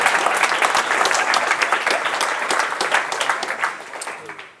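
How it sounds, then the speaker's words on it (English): An audience at a FuckUp Nights talk in Oslo breaks into full, dense applause that holds strong for several seconds, then thins and fades out at the end. "you can applaud."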